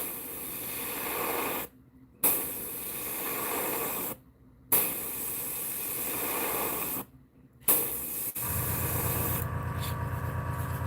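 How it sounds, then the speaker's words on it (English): Aerosol paint sprayed through a stencil onto a bluegill-pattern swimbait lure, steady close hissing bursts of a few seconds each separated by short pauses, ending with a lower buzzing rasp. "I'm gonna spray directly on the stencil and then just work my way to the edge."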